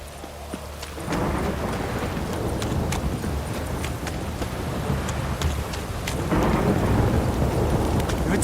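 Steady rain with rumbling thunder in The Witcher 3, a continuous wet downpour that swells louder near the end, with soft clopping hooves mixed in.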